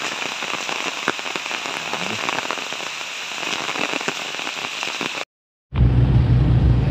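Heavy rain in Ormoc City pours steadily in a dense, hissing wash with scattered louder drops. It is close and continuous, breaks off briefly near the end, then returns with a deeper rumble.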